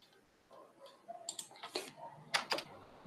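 Soft, close clicks and taps of keys on a computer keyboard are heard in a quiet room, a scattered run of keystrokes ending in a couple of sharper presses, with no talking.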